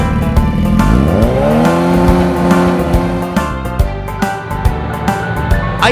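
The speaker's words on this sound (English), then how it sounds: "Motorcycle." A motorcycle engine revs loud and close, its pitch climbing and then holding steady with a busy, rattling mechanical edge.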